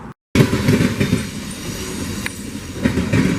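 Train wheels roll over the Sandpoint railroad diamond with a loud, continuous rumble and rhythmic clacking, a sharp squeal and click partway through, close by with no voices.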